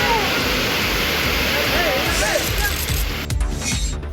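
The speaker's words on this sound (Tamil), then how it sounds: "பெரியார் அருவியில் தொடர் மழை காரணமாக தண்ணீர் ஆர்ப்பரித்து கொட்டுகிறது" Periyar falls roars after continuous rain, with water crashing down as a loud, dense, unbroken rush that fills the whole clip. A voice speaks faintly over the torrent.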